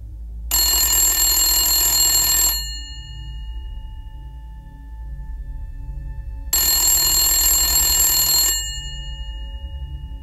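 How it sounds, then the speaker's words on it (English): A rotary telephone rings in two loud, identical bursts of jangling bell about two seconds each, separated by a few seconds of quiet room hum. "Then the phone rang."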